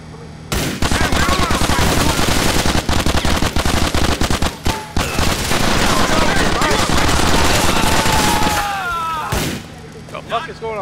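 Sustained automatic gunfire in GTA: The Ballad of Gay Tony, loud dense bursts with brief gaps, under shouting voices.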